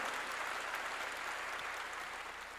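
A church congregation at a revival sermon claps together in praise, a continuous, even roar of applause from many hands, heard from a moderate distance and holding steady throughout.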